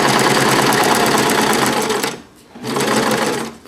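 A sewing machine stitches a cloth pocket diaper, running loud and steady at close range, pausing briefly for about half a second and then starting up again.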